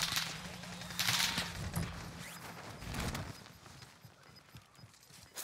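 Gunfire from the video game Warzone Caldera: rapid, muffled bursts and scattered shots of a firefight with someone shooting at the player, mixed with footsteps and in-game rumble.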